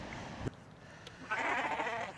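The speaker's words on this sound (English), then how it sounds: "Sounds like a sheep, looks like a goat." A single goat bleat rings out near the end, harsh and wavering, sheep-like, after a short thump; no talking.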